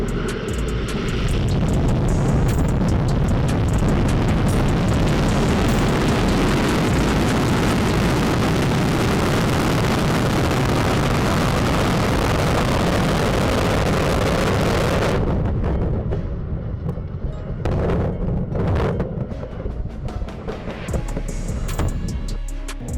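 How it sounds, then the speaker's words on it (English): An Antares rocket blows up seconds after launch, a massive sustained roar of the explosion and burning engines, loud and distant-sounding with heavy rumble, fading and breaking up near the end. "just 14 seconds after it launched, the rocket went up in smoke"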